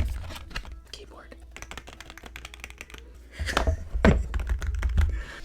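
Typing on an iPad keyboard, close up: rapid soft clicks and taps in an irregular rhythm, growing busier and louder toward the end, with a quiet voice speaking underneath.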